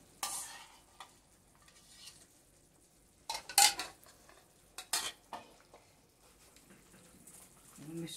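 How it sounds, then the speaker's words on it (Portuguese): Vegetable soup being stirred in a pot, a few scattered spoon scrapes and clinks against the pot over quiet background with faint sizzling, fairly close. "Vou mexer aqui."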